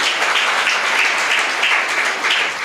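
A church congregation at a Telugu Christian sermon claps together in sustained, even applause, a dense wash of many hands that holds steady throughout with no talk over it.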